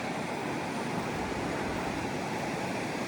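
Sea waves washing on a Japanese shore, a continuous broad rushing wash of surf with faint wind, steady and unbroken without any voices.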